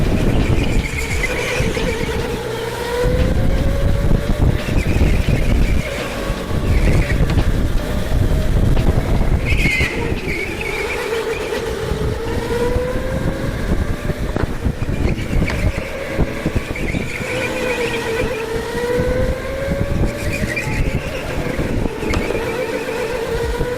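A go-kart at a K1Speed indoor track runs a qualifying lap, its small electric motor whining steadily and rising and falling in pitch through the corners, loud and close, with wind rush over the microphone and no talking.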